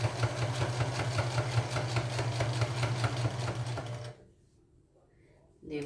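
A domestic sewing machine fitted with a size 18 needle stitches in a steady, fast mechanical whir for about four seconds, then stops abruptly, leaving near silence before a brief sound at the end.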